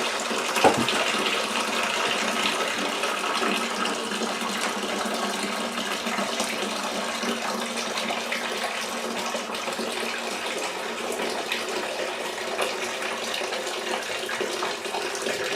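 Water running from a tap into a container for a whiskey mash, a steady, close splashing stream that keeps one even level throughout with no voices.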